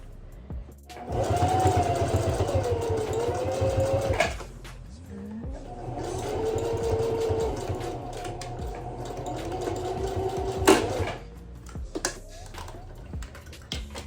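A sewing machine runs in two long bursts of rapid, steady stitching, close and loud, with brief pauses and a few clicks between runs.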